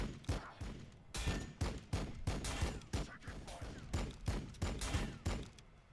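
Rapid bursts of gunfire from a Warhammer 40,000: Battlesector multiplayer match between Blood Angels and Necrons, a dense fusillade of repeated loud shots with thuds, steady throughout with no talk.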